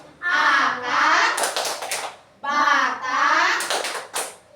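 Indonesian schoolchildren standing and doing a clapping chant about plant parts, two rhythmic bursts of claps mixed with their chanting voices.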